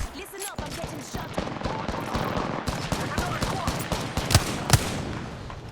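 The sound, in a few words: gunfire in Apex Legends video game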